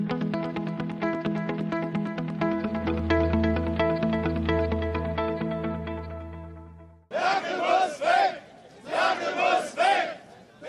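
Crowd chanting at a Pegida rally in Germany: after a stretch of tonal music, a large crowd breaks into loud rhythmic bursts of chanting in repeated phrases.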